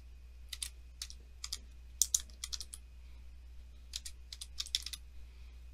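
Password being typed on a computer keyboard: sparse clusters of quick, light key clicks close up, over a low steady hum, with no talk.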